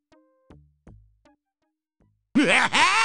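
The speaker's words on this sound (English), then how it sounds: "As you sit down, a rude noise comes from the chair seat." In a Quest for Glory video game, a few light taps and knocks, then a sudden loud, blubbery rude noise from a chair seat like a whoopee cushion, wobbling in pitch for nearly a second.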